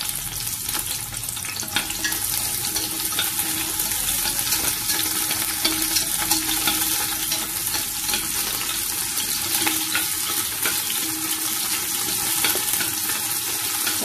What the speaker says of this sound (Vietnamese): Mình xào cho xả nó thơm lên rồi mình bỏ củ hành với tỏi vô mình xào ha.